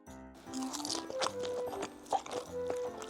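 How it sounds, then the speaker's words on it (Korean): Crispy pan-fried frozen dumplings are chewed up close, with repeated crunchy bites and moist squishy mastication in an irregular rhythm, quiet and without talk. "우선 프라이팬으로 구운 만두부터 시식"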